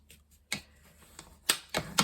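A tool burnishes very narrow score lines into paper for a mini folio, giving a few sharp close taps and scrapes spaced irregularly with quiet gaps between.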